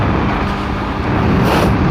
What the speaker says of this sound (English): There's an old car.